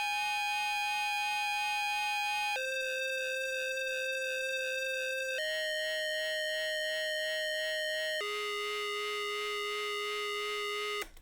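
Bright synth lead for a rage beat's hooks holds long steady notes with a wobbling vibrato, stepping through four pitches about every three seconds, loud and alone.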